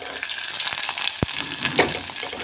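Chopped onions hitting hot oil with mustard seeds and curry leaves, a steady close sizzle with crackling pops and a stir or two, no voices.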